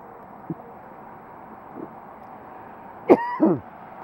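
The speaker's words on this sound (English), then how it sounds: "I'm going to cough for a minute" A couple of faint throat sounds, then a short sharp cough followed by a hoarse throat-clearing over quiet background hiss.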